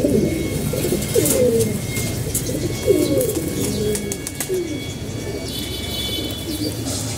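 A pair of pigeons kept in a home loft coo in repeated throaty rolling phrases, fairly close and continuous, with a few faint higher chirps and little talk over them.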